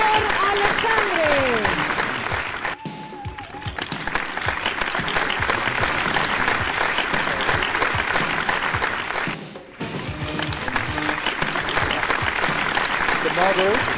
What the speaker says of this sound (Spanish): Aplauso para estos magníficos bailarines